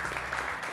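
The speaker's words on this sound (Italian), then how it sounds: "Ad applaudire e a salutarvi sono i ragazzi del liceo scientifico" High school science students applaud in a television studio audience, a short burst of dense clapping heard close and steady throughout.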